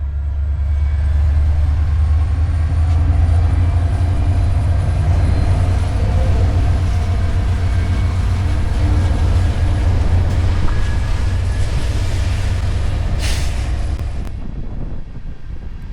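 A heavy Union Pacific freight train rumbles steadily in the Feather River Canyon with a deep, continuous low drone, loud and close, fading slightly near the end with a brief squeal.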